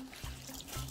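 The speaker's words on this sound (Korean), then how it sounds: "소금물을 뿌려요" Salt water poured over napa cabbage for kimchi, a short close trickle and splash of liquid with faint handling noise, no voices.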